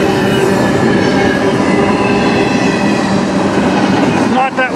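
A CN intermodal freight train led by ET44AC and ES44DC locomotives rumbles past nearby, loud and continuous, with rolling wheel noise and a brief metallic squeal at the end.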